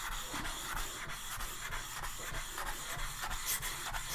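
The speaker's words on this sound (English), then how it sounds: "The WD-40 on the sandpaper, to keep it from getting loaded up" Sandpaper wetted with WD-40 rubs rust off a steel milling machine vise in a continuous scratchy back-and-forth rasp, even and fairly quiet, with no talking.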